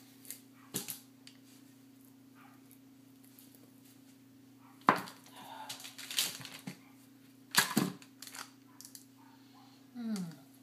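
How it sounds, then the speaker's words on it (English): Lemon and fig soap bars cut with a wire cutter, a few separate sharp crunching cuts with pauses between, close by over a low steady hum. "I'll cut them with the wire cutter as well."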